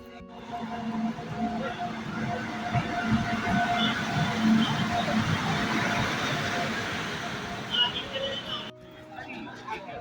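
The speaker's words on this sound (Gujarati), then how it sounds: "ચાલો આવી ગઈ છે ટ્રેન" A train pulls into a busy station, its steady rumble and rolling clatter filling the scene with crowd babble and voices nearby, then cutting off near the end.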